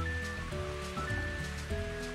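Rain in Mario Golf 64 forms a steady, soft hiss of falling water beneath looping game music, constant throughout with no voices.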